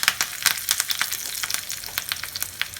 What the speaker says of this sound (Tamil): இப்போ நெய் சூடாயிடுச்சு. அதில் வந்து நான் கருவேப்பிலை போட்டுக்கிறேன் முதல்ல.